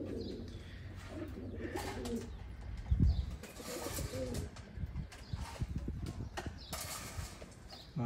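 Oman teddy pigeons, flying birds in a loft, with soft cooing and rustling among continuous background noise and low thumps, someone talking over it.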